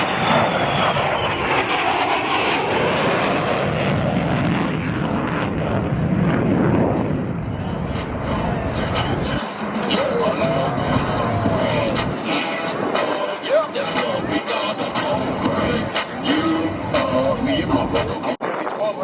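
A Lockheed Martin F-35A Lightning II fighter jet roars at an airshow in New Orleans, a loud rushing engine blast that swells then fades into a distant rumble, with an announcer talking over it.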